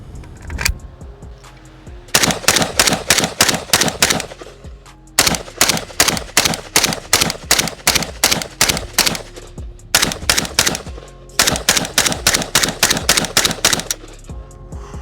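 An AK rifle fires Polish GROM ammunition in several long strings of rapid, evenly spaced shots at close range, each loud burst separated by short pauses.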